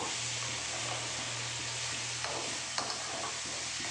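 Spices with turmeric stirred in a frying pan for a Bengali rui fish curry with ridge gourd and potato, giving a steady soft sizzle with a few faint scraping stir strokes near the end.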